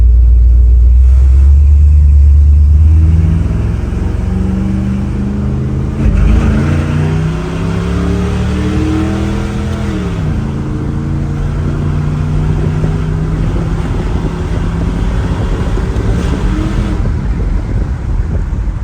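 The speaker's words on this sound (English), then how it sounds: "This is cool to be driving something with a big block. Even though it's like it's just a crappy 400." A Mopar car with a big-block 400 V8 is being driven, heard from inside the cabin. Its loud, deep engine rumble rises and falls steadily as it pulls through the gears.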